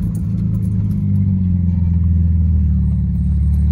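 A BMW 335i with upgraded turbos and open downpipes exhaust, heard from inside the car as a loud, steady low droning engine rumble under cruising load, with no talk.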